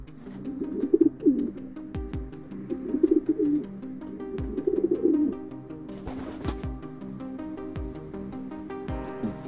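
Male homing pigeon cooing while courting a female, three or four soft rolling coo phrases close by, spaced a couple of seconds apart, followed by light rustling.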